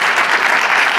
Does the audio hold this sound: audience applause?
yes